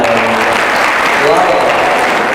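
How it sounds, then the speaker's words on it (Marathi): An audience applauds, dense continuous clapping at full volume for the whole stretch, with voices faintly mixed in. "तुमच्या समय सूचकतेसाठी याच्यासाठी एकदा टाळ्या."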